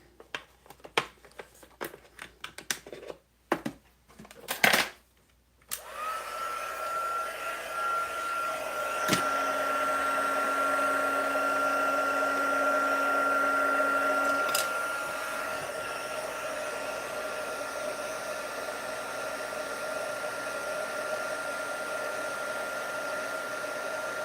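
A heat tool blows hot air in a steady, loud whoosh with a faint whine, starting after a few seconds of brief handling clatter and running continuously to the end, shifting pitch slightly partway through.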